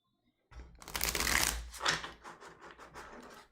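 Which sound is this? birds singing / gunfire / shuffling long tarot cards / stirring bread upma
shuffling long tarot cards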